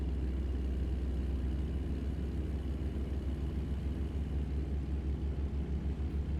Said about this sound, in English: You guys got to hear an engine brake